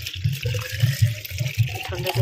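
Cold water poured into a cup of hot water to mix a drink at home, a steady splashing flow running throughout, close and moderately loud, with no talking.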